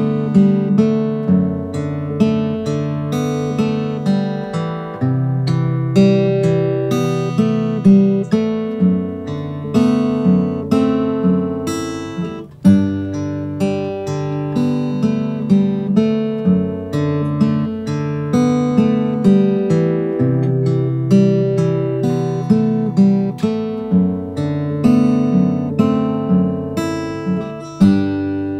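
Fingerpicked acoustic guitar plays the repeating intro riff of a song, with steady plucked notes ringing out in a looping pattern, clear and solo for the whole stretch.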